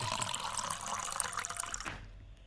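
Water gushes into a container from a well for about two seconds, a bright splashing rush that cuts off abruptly, leaving a quiet low rumble.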